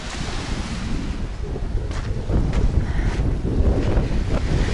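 Sea surf and gusting wind on a central city beach in Alanya, Turkey, in March: a steady broadband wash of waves with rumbling wind buffeting the microphone, growing louder and fuller in the second half, with no voices.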